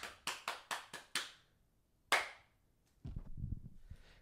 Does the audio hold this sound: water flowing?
no